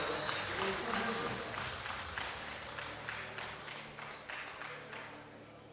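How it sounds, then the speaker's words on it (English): An audience at a European sub-junior and junior powerlifting championship applauds the first lifter of the day, a crowd of clapping hands that is strong at first and slowly tapers while an announcer talks over it. "give a round of applause for the first lifter of today's competition"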